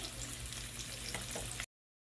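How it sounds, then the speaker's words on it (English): Quiet, steady sizzling and crackling of an egg frying in a pan, a soft continuous hiss that cuts off abruptly near the end. "warm up this in the frying pan and add the egg"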